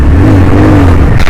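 A motorcycle in fifth gear accelerates with a steady, loud mid-pitched engine drone and rising tone, heard close from the rider's position.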